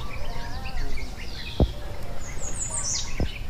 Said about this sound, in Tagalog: Ang dami dito yung ibon kuling oh.